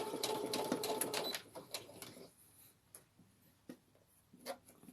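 A domestic sewing machine stitching a seam on a girl's dress, a quick run of rattling needle strokes that stops, followed by a few short bursts and scattered clicks, close and quiet.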